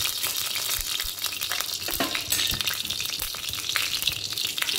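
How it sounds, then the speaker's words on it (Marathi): Oil heating in a hot pan for samosa making, a dense steady sizzle with occasional crackles and a few utensil knocks, close and constant with no talk. "अर्धी पळी तेल टाकूया"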